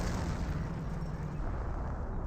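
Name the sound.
M2 barrage explosions in Company of Heroes video game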